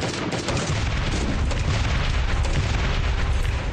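A dense explosion from the survival video game Last Day on Earth: Survival rumbles with a continuous broad roar and crackle throughout, loud and without speech.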